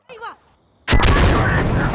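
A grenade explodes in the video game Insurgency Sandstorm during hardcore co-op play. A brief voice comes first, then a loud, close blast erupts and rolls on as a dense, sustained rumble.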